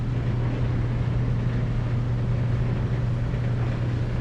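Honda Ridgeline second-generation pickup engine on a dyno, running at a steady, loud, sustained drone with a strong low hum and broadband roar throughout, no talk.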